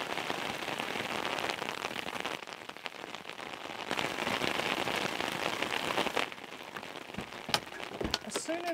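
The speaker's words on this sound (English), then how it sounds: "As soon as that rain comes in, the temperature proper drops" Steady rain falling on a surface in Wales during summer, a dense continuous patter close by with brief changes in intensity and a few sharp drips near the end.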